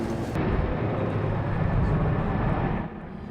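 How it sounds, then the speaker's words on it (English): Low aircraft drone of a helicopter or air tanker passing over a wildfire during the King and Boles fires, a loud steady rumble that holds for nearly three seconds before easing off. "With each passing of a helicopter or an air tanker, the crowd here follows with their eyes to see if water drops are helping."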